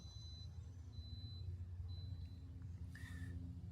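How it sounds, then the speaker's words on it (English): A 2026 Futura Shiftr lowering car trailer sounds repeated warning beeps as it goes down, like a truck reversing, coming through as faint, evenly spaced tones over a steady low hum. "It even beeps as it's going down, like a reverse on a truck."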